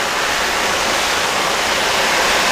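Garden hose water spraying onto a rain poncho, producing a steady, loud, broadband hiss that continues without a break.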